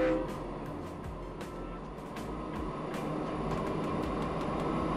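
A train departing in Train Fever, a steady low rumble of rolling stock with faint clicks and clatter building slightly over time, without speech.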